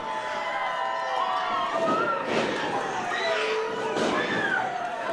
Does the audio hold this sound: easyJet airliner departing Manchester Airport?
no